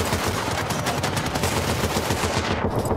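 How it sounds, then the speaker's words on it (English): Dense, continuous automatic gunfire from the video game Battlefield Bad Company 2, loud and close, a rapid unbroken rattle of shots filling the whole moment with no talk over it. "Where are the bullets coming from?"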